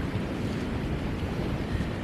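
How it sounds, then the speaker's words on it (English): Huge waves crash steadily on a white-sand Gulf of Mexico shore at sunset, a continuous loud roar of surf mixed with wind buffeting the microphone, with no voices. "had these huge, beautiful waves crashing on the Gulf side"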